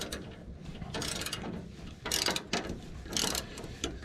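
A 1/4 inch ratchet tightens bolts on the sickle of a John Deere 1209, giving several close bursts of quick clicking that come and go over a steady background.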